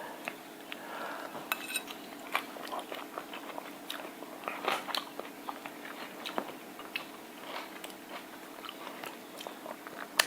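Someone chews a bite of Caesar salad up close, with crisp crunches and soft bites at an irregular pace and faint clinks of cutlery against a dish in a quiet room.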